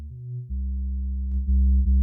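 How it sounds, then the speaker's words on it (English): Synth bass run through a 24 dB low-pass filter with the cutoff pulled down to about 200 Hz, leaving a dark, muffled, deep sustained tone with a few note changes, loud and uninterrupted. "put the cutoff down to like 200-ish."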